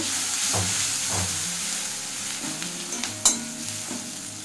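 Turmeric, cumin and coriander powder sizzle in hot oil while being stirred for a matar mushroom curry, a steady frying hiss broken by several soft scraping strokes and one sharper clink near the end.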